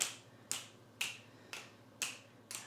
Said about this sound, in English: Follow that snapping with your gaze.